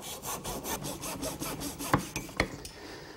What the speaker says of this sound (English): To make the miters, I'm going to use my lightweight miter box that has a really fine